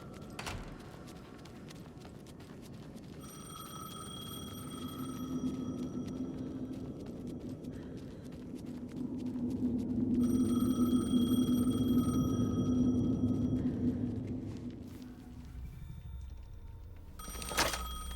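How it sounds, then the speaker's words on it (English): A telephone rings repeatedly in the video game Alan Wake 2, with two long bursts of ringing over a low droning ambience and a sharp knock near the end. "The phone again."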